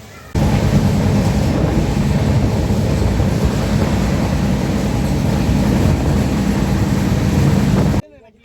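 The Darjeeling Mail passenger train running toward New Jalpaiguri gives a loud, continuous rumble and roar, heard close up as from on board, starting abruptly and cutting off sharply after about eight seconds.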